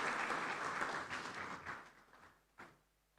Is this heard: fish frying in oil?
no